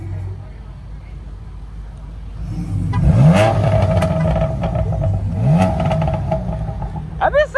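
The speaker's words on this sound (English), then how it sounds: "Can I get a little rev? Nothing crazy," A Dodge Hellcat at a car show idles with a low rumble, then blips its engine twice in quick rising revs, loud and close, with a brief clatter at the end.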